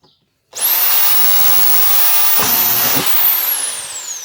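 A hammer drill bores holes for mounting a plate reverb built from an old cymbal: a loud, steady high-pitched whine that starts abruptly and runs continuously, with a brief lower grinding surge partway through.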